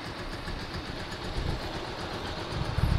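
A SYM Wolf 125cc motorcycle idles with a steady, even, close-up engine murmur that runs smoothly throughout, with no voices over it.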